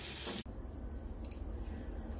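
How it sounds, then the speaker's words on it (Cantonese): Salted fish frying gently in a pan, a soft steady sizzle that continues throughout after a brief opening clatter, with no talking. "我哋可以個鹹魚略為煎香咧"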